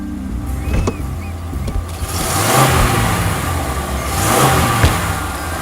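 A car engine catches and starts, then revs loudly in two surging swells over a rough idle, close by and with no talking.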